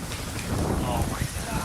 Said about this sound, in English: That was thunder, wasn't it?